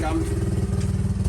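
A big-bore motorcycle engine idles with a close, low, rhythmic chugging pulse while someone speaks over it.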